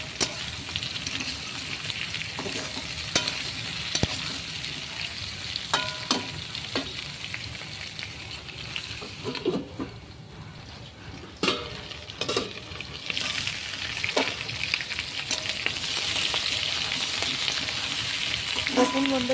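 Potatoes and kohlrabi frying and being stirred in a pan, with a continuous close sizzle and irregular spatula scrapes and knocks against the pan, briefly softening midway before the frying noise builds again.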